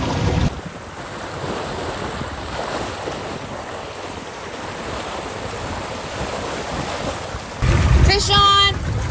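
A sailboat cruising under motor with the mainsail up in the Sea of Cortez, steady broadband wind and wave wash with a low engine drone, ending in a louder splash and rattle near the end.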